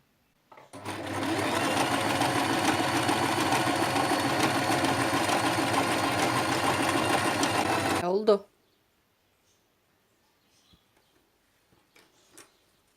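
A sewing machine runs steadily for about eight seconds, stitching around the eye piece of a fabric owl bag, then stops, leaving near silence with a few faint handling sounds.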